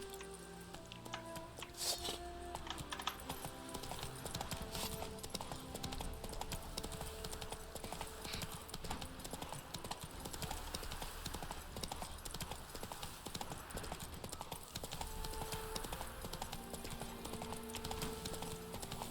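Steady clip-clop of Roach the horse's hooves in The Witcher 3, a continuous even rhythm throughout, under game music and ambience.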